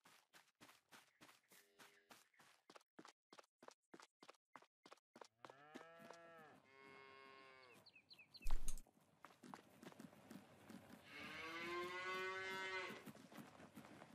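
Cattle in the farming game Farming Simulator 22 give several drawn-out moos, one after another, over a steady run of rhythmic footsteps, with a sharp thump in the middle and the loudest, longest moo near the end.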